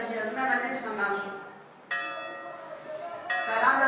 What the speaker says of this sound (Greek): Σήμερα γιορτάζεις πολύ αγαπημένα μας Στέλιο, κι όμως οι καμπάνες χτυπούν πένθυμα